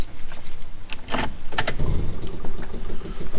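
Honda Acty engine turning over and catching after a timing belt replacement, with sharp cranking bursts followed by a close, rough running rumble.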